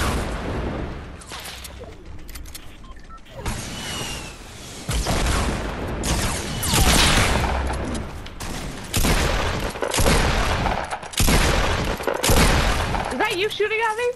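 Gunfire in a video game, dense bursts of shots and booming blasts with crackling impacts, loud and close, coming in waves over continual excited player chatter.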